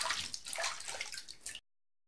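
Water splashes and drips as a face is washed, a short burst of wet sloshing lasting under two seconds before cutting off.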